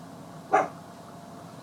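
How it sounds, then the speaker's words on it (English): A dog gives a single short bark, moderately distant, in an otherwise quiet room with a low background hum. "Now what's them dogs barking at?"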